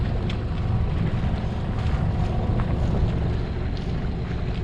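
Boat diesel engine running with an unidentified fault noise, a steady low rumbling drone mixed with wind buffeting on the microphone and faint rattles, continuous and fairly loud.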